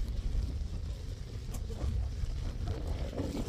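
Steady wind roars and buffets the microphone at the Anilag festival, a constant low rumble with no pauses, loud and close.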